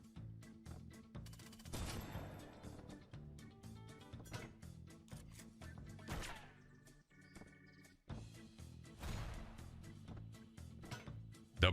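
Explosion effects from an online slot video game crackle in rapid, dense bursts like gunfire, layered over a busy electronic soundtrack, with brief gaps and a sharp loud hit at the end.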